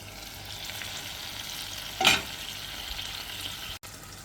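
Spicy Andhra chicken curry bubbles and sizzles under a lid in a pan, a steady low frying hiss with one brief louder burst midway.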